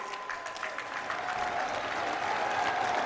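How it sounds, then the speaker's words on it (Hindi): A large audience claps steadily to welcome India's Prime Minister at a public event in Aligarh, a dense continuous applause that swells slightly and holds with no voices over it. "अपनी तालियों के प्रणाम आप मंच तक पहुंचाएं।"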